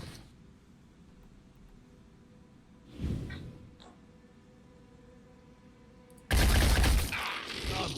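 Weapon shots in the tactical game Phoenix Point: a muffled burst near three seconds, then a loud, sustained volley of gunfire over the last two seconds against quiet ambient background.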